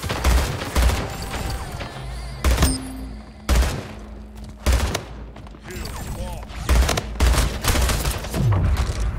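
Assault rifle fire in the shooter game Splitgate: loud close bursts of rapid shots in several clusters, with brief pauses and game effects between volleys.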